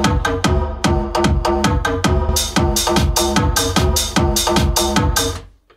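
Early version of a hard bass song played from a recording, a loud driving electronic beat with punchy kicks and bright stabs in a steady fast rhythm, fading at the end.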